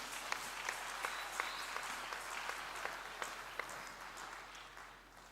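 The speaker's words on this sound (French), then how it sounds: "Applaudissons le Seigneur." A church congregation applauds together, a steady wash of many hands clapping at moderate distance for several seconds, with no voices over it.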